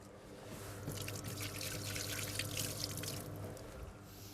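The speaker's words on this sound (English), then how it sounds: "wash the hands quickly." Running tap water pours steadily into a sink while hands are washed beneath it, a continuous close splashing hiss with faint dripping, no talk over it.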